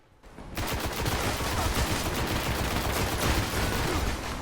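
The Khvostov auto rifle firing in the video game Destiny: a loud, sustained stream of rapid automatic gunfire starting abruptly after a brief quiet moment and continuing without pause.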